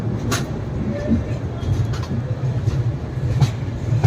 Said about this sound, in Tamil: சென்னை எக்மோர்லேருந்து ட்ரெயின் பார்த்தீங்கன்னா டிபார்ட் ஆகி போயிட்டுருக்கு